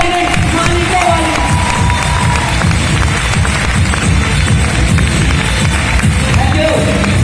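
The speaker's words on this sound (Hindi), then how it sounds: "एक बार आपने जोरदार तालियां, मालिकों वाली, नौकरों वाली नहीं, मालिकों वाली।" A crowd at a motivational seminar bursts into loud, sustained applause and cheering, dense clapping filling the room without pause throughout.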